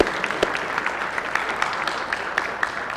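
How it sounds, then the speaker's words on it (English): Audience applause in a Senate chamber during a floor session, as a newly seated borough council member is recognized: a steady wash of clapping with scattered sharper claps throughout, moderately loud and continuous. "please hold your applause"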